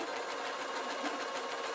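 Brief run of a home sewing machine sewing a blouse: an even, rapid rhythmic whirring at low volume, heard alone.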